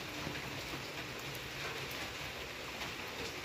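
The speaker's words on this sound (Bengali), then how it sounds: "এইরকম বৃষ্টি পড়লে কি করে যাবে?" Steady rain pours during an unseasonal downpour, a continuous even hiss with no pauses, moderately quiet and heard alone without speech.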